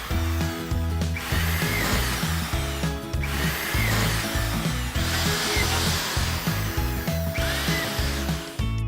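Power drill driving fasteners into drywall as a panel is hung, a loud continuous whirring drone that rises and falls in several bursts with brief pauses between, no talking.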